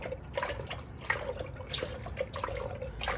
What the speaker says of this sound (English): I'll just go ahead and let that finish draining